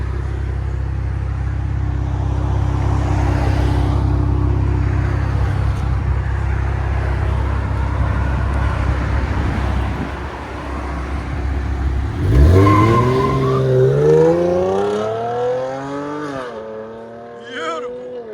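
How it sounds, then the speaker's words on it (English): Car with Dynamax race bullet resonators, rear muffler delete, J-pipes and quad tips, idling with a deep, steady rumble, then revving and pulling away with a rising engine note and tire noise, loud and close with some voice. "So Dynamax race bullets in the middle, rear delete with J-pipes and quad tips."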